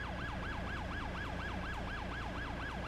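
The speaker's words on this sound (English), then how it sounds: "You can kill the siren now." Wailing siren of a Los Santos Fire Department engine in a video-game roleplay: a loud, steady, rapidly cycling rise-and-fall tone repeats without pause for about three seconds over a low engine rumble, with no talking.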